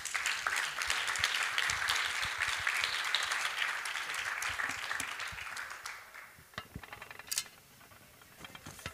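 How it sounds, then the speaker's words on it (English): A round of applause from the audience in a summit hall, dense clapping for several seconds that thins out and fades into a few scattered claps near the end. "Please, a round of applause for our."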